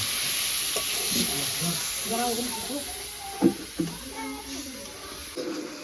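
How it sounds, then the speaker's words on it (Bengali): Chicken sizzles and fries while being sautéed kosha-style in a pan, a constant hissing bed with a few brief clatters of stirring, while people talk over it. "মাংস তো কষাচ্ছে"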